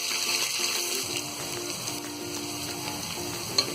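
Potato pieces fry in hot oil in a pan for soya pulao, giving a steady, close sizzle with faint stirring clinks and no talking.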